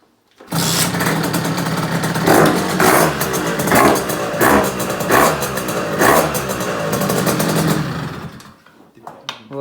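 A motorcycle engine starts and revs loudly, rising and falling in several strong surges close by, then cuts off abruptly near the end.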